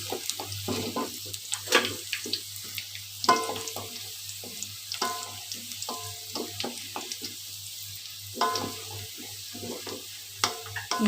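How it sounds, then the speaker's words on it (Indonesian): Garlic and lemongrass frying in oil for Makassar coto soup crackle and sizzle with irregular pops and bursts, steady and close throughout, with a low hum underneath. "patokan menggorengnya adalah kalau bawang putih dan serainya udah coklat kekuningan, kita angkat"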